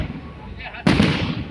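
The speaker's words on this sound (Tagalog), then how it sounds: "Makita tayo, napakagandang fireworks" Fireworks go off at an outdoor Buddha celebration in Taiwan. Faint crackling leads into a single loud, close burst that rings out over a busy background where voices can be heard.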